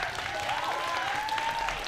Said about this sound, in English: Give another round of applause for the class of 2022.